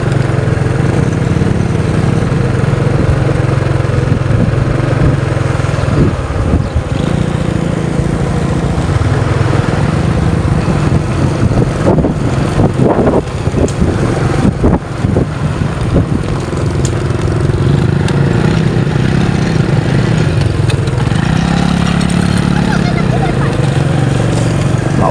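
A motorcycle engine idles steadily and loudly at close range, its smoke reportedly turning white, with a continuous low throbbing drone and some clattering bursts in the middle.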